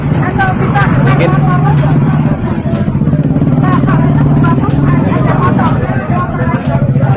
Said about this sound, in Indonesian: Ini motor. Ini motor, Bu.